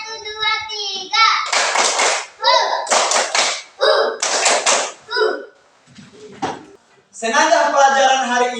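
A classroom of children claps in a counted one-two-three routine, with three distinct clusters of crisp group claps alternating with the children's chanting voices, close and energetic.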